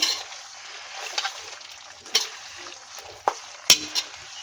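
Red chilli pickle mixture being stirred in a large kadhai, with a few soft scraping clicks and sharper spoon knocks spaced irregularly against a quiet background hiss.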